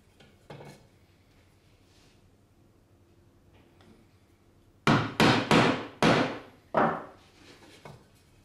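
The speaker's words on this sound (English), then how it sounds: "Now chisel the notches for the wedge by eye." Sharp mallet strikes on a chisel cutting notches into wood for the wedge of a Japanese corner splice joint, about six loud, close blows in a quick cluster after a quiet stretch with a single earlier tap.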